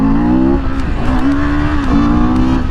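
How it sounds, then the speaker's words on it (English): An intermediate motorcycle's engine revs loud and close during a wheelie, the pitch climbing, dipping and rising again in sustained surges with no talk. "Yes, this bike does wheelie."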